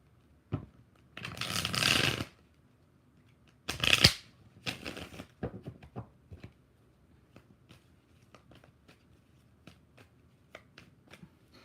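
Tarot cards riffle-shuffled in two bursts, each a quick papery flutter, then scattered soft taps and clicks as the deck is squared, close and fairly loud.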